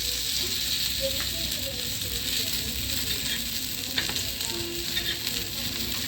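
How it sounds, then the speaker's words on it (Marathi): Fish frying in hot oil gives a steady, close, even sizzle with a few small crackles and pops, and no voices are heard. "आता हे तळत आहे मच्छी फ्राय करत आहे"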